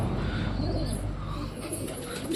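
A domestic pigeon coos softly and low, a short murmuring call at moderate distance over faint background noise.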